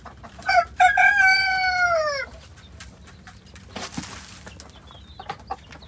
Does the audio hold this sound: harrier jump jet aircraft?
no